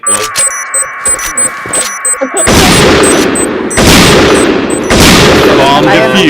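Gunfire in the PointBlank shooter game, with loud bursts of rapid automatic fire and sharp single shots mixed with electronic beeps from the game, close and dense, while a player talks.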